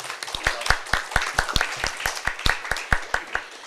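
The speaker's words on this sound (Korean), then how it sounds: "큰 박수로 맞아주시기 바랍니다" A seminar audience gives sparse, slow applause to welcome a speaker, with individual claps standing out distinctly in an uneven rhythm over a few seconds.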